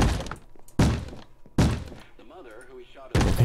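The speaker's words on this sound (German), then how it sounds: "Warum kann ich diese Tür nicht aufmachen?" Heavy thuds from a locked wooden door in a Minecraft horror mod land in three loud, evenly spaced bangs about a second apart. Between them, a voice talks quietly.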